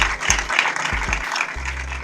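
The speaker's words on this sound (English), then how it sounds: "Please give him a round of applause." A studio audience on a Nigerian television quiz show claps briefly, a short burst of scattered applause with a few low thumps underneath.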